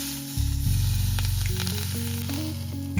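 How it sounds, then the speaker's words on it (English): Steady loud sizzling of turmeric frying in hot mustard oil for Nepali potato salad, a continuous crackling hiss close up, with a few faint clinks partway through. "that's our kurkuma, roasting on a mustard oil, or sizzling"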